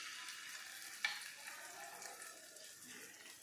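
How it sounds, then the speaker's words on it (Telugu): Onion paste frying in leftover oil from fried potatoes, a soft steady sizzle with one light clink of the stirring spoon against the pan. "దీనిని కొద్దిగా కలుపుకుంటూ వేయించుకోవాలి"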